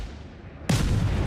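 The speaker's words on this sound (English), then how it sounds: "I reveal myself there by firing my guns" Naval guns fire from a warship in World of Warships, the Cossack destroyer, as one sudden heavy boom that gives way to a loud rumbling roar holding to the end, with a quieter ambient hum beforehand.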